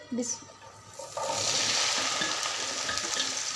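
Chopped okra goes into hot oil in a pan for Pakistani restaurant-style bhindi masala. After a quiet second, a loud, steady sizzle bursts in and keeps hissing close by.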